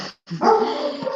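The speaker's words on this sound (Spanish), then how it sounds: "Pido disculpas por si se escucha mi perra ladrando atrás" A pet dog barks and yips in the background of a meeting, one short sharp burst followed by a sustained whining bark, loud and close, with no talking over it.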